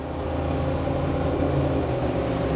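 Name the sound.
twin Yamaha XTO outboard engines accelerating on Jeanneau boat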